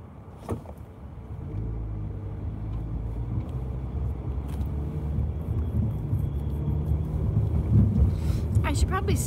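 Car interior rolling slowly through city traffic beside a canal, a steady low engine and road rumble building gradually under some wind buffeting, with a few faint clicks and a brief background voice.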